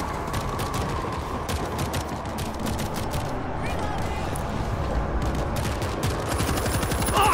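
An automated turret in World War Z rattles off steady, rapid fire at a zombie horde, a continuous dense stream of shots over a churning crowd roar, with occasional voices under the din.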